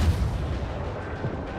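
Ship cannon firing in the naval battle game World of Warships, a loud heavy boom with a long rumbling roar that fills the whole moment.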